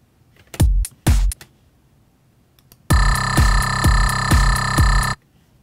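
A bright, buzzy synthesizer tone from the Modern Talking oscillator in Ableton Live rings with sustained harmonics for about two seconds under repeated low thumps. Two short bursts come first, and the whole sound is loud and close.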